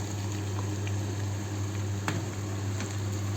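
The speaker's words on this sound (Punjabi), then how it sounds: "ਆਪਾਂ ਆਲੂ ਐਡ ਕਰ ਦਨੇ ਤਾਂ ਕਿ ਪਿਆਜ਼ਾਂ ਦੇ ਵਿੱਚ ਹੀ ਆਲੂ ਫਰਾਈ ਹੋ ਜਾਣ" Potatoes added to browning onions fry in a pan for a Punjabi aloo bhindi dish, giving a steady, even sizzle with a low hum beneath and no voices.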